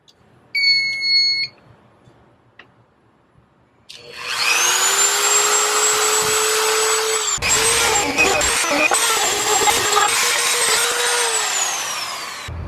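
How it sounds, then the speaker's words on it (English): A Dremel rotary tool running from a van's off-grid power system cuts a small hole with a loud, continuous high-pitched whine that dips briefly partway through. A short electronic beep sounds first, followed by a few seconds of near silence. "get a Dremel tool and see if we can just cut us a little hole"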